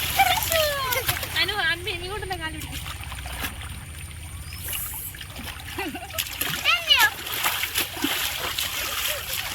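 Children splash and play in water, with bursts of splashing and trickling close by under their chatter and shouts, plus an adult voice, at a relative's house.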